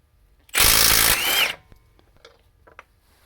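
A Milwaukee M12 cordless impact wrench drives a bolt in one loud, steady burst of about a second, then stops, leaving a few faint clicks and handling noises.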